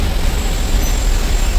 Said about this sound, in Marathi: ट्रॅफिक चालू.